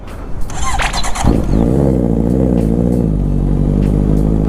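A big-bike motorcycle with a weak battery cranks and catches, and the engine then runs with surging revs. A brief clatter comes just before the start, and the steady engine note sits up close.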